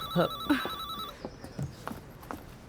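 A telephone rings in a repeating electronic trill, fairly close and loud, then stops after about a second, followed by quiet room sounds with faint shuffling and brief voice fragments.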